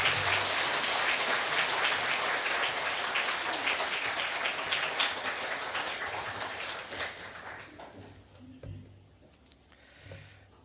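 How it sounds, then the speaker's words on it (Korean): A church audience at a 50th anniversary service claps to welcome a visiting professor. The thick applause is fairly soft and gradually thins, fading to scattered claps and near quiet by the end. "우리 박수로 맞이해 주시겠습니다"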